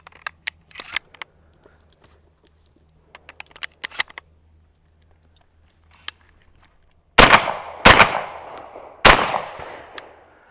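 A Benelli inertia-driven shotgun fires target loads in three loud, sharp blasts, each followed by a short ringing decay, after quieter handling clicks and clatter.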